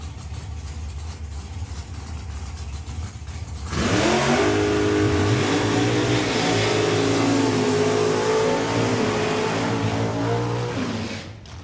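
Drag racing cars launch at the STP Sportsman Nationals street weekend: a low engine murmur suddenly bursts into a loud, sustained roar that holds for several seconds before fading slightly at the end.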